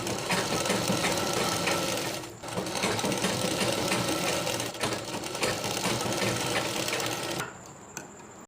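Sewing machine running fast and steadily, stitching a folded one-inch hem on a pant leg, loud and close with a brief slowdown midway before stopping near the end.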